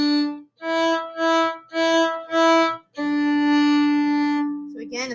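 Violin playing the opening two measures of a beginner string exercise, mostly on open strings: five short bowed notes with brief gaps, then one long sustained tone, close and clear with no talking.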